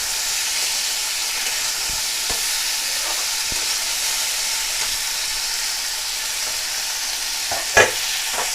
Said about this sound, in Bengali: এবার আধা মিনিট একটু নেড়ে চেড়ে